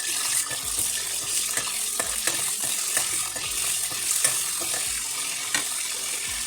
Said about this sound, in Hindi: सबसे पहले चिकन इसमें डाल के फ्राई करेंगे